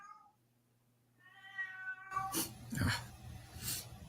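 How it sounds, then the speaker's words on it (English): A cat meows several times in rising, drawn-out calls outdoors, close and fairly loud, followed by broadband rustling and handling noise. "I thought you did away with that cat for real. I thought you went, but no, cat still lives."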